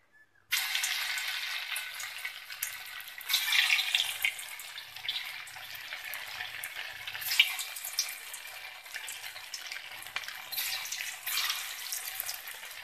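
Tofu balls deep-frying in hot oil for a Manchurian dish give a steady, fairly loud crackling sizzle that starts abruptly and continues throughout, with brief surges of bubbling.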